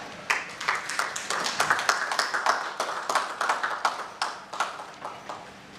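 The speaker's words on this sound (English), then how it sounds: "Give him a big round of applause" Audience applause at the AfriTech2021 Africa Tech Alliance Forum welcoming an executive vice chairman for a keynote, dense clapping sustained for several seconds before tapering slightly, fairly close and steady.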